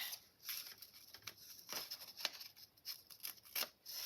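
Scissors trimming excess paper from a handmade envelope, a series of quiet crisp snips and paper rustles in a calm room, with no voices.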